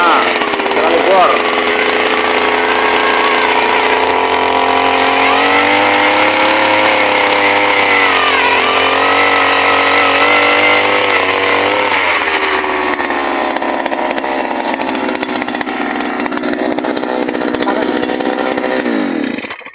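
A motorized earth auger bores into farm soil, its small engine droning loudly and steadily for about twelve seconds before the pitch drops and the sound thins out. People talk over the engine.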